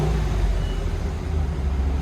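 A stock 2022 RAM 2500 Power Wagon with a 6.4-liter Hemi V8 idles with a steady, deep, low exhaust rumble, close and constant with no voices.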